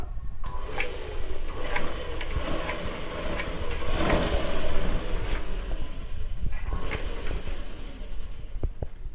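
An electric motorized sewing machine, controlled by a foot pedal, runs continuously with a dense rattling whir and fine rapid clicks, close and steady throughout.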